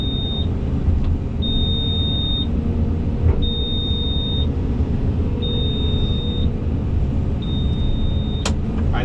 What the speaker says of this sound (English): and I'm getting beeped at.